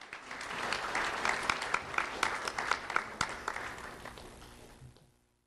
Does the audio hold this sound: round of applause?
yes